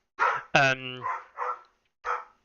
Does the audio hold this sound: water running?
no